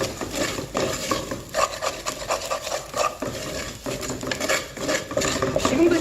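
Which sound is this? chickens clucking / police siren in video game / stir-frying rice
stir-frying rice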